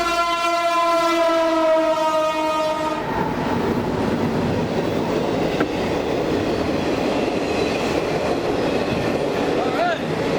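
At the Gainesville Amtrak station in Georgia, a train blasts a long, loud horn chord. Then a steady, rumbling roar of the cars rolling past follows for several seconds.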